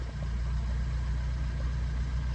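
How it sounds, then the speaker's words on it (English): A diesel engine of a 2014 Renault Clio dCi idles in neutral with a steady low rumble, running evenly without any noticeable change in pitch. "let's just give it a small rev. That engine sounds really good"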